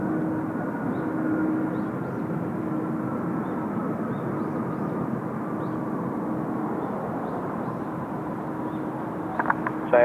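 A Thai Airways airliner at the airport produces a steady, distant jet engine rumble with a faint droning tone, continuous and unbroken, with a few small clicks near the end.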